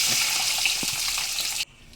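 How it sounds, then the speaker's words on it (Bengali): An egg fries in a pan of oil used for frying potatoes, crackling and sizzling loudly up close for about a second and a half before the sound cuts off abruptly. "আলুটা ভাজা হয়ে যাওয়ার পর আমি ডিমটা ভালোভাবে ভেজে নিচ্ছি।"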